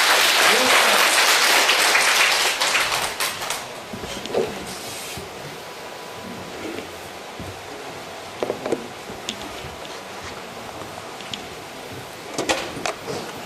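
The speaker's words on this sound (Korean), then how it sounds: "한강문 교수님께 다시 한번 감사의 박수" A lecture audience claps loudly for a retired university professor after a talk on natural healing, the applause dense for a few seconds then dying away into scattered claps, rustling and a voice.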